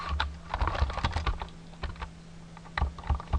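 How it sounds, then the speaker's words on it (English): Typing a SQLite command on a computer keyboard, quick clusters of close, crisp key clicks with short pauses between bursts, alone over a faint steady hum. "if you type in read create tables"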